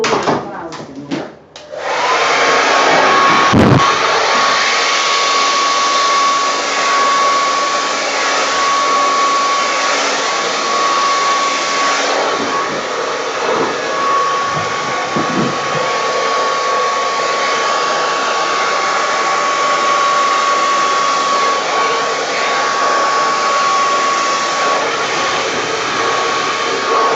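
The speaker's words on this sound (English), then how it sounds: "I think I'm going to get the blower and try and get some blower clouds in there" A blower runs continuously as a steady, loud whirring rush, pushing wet paint into cloud shapes across a pour painting of three sisters under dark clouds, with a few brief handling knocks near the start.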